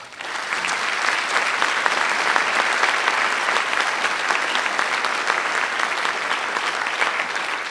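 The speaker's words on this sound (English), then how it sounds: "So I'd like to give them a round of applause." A high school audience at a National Honor Society induction gives teachers a sustained round of applause, a dense, loud, even roar of many hands clapping that holds steady throughout.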